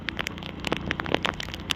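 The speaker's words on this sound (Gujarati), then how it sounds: "વરસાદ અત્યારે ચાલુ છે" Steady patter of rain on waterlogged cotton fields, with scattered drips and taps striking nearby surfaces, fairly quiet and continuous throughout, no voices.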